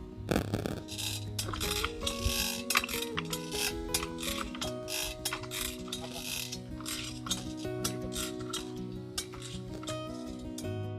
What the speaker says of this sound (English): to operate this pump, one to build up the pressure and other one to spray